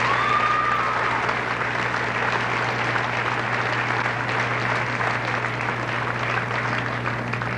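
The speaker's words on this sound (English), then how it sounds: "I think he deserves a big round of applause" Audience at a junior high graduation ceremony applauding, a steady dense wash of many hands clapping, even and sustained from start to finish with no voices standing out.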